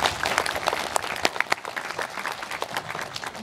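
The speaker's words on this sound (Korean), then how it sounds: "박수를 주셔서" An audience at a guest-visit screening of the Korean film Haebing, attended by actors Cho Jin-woong and Kim Dae-myung, breaks into dense, sustained applause, loud and close, with sharp individual claps standing out before gradually thinning.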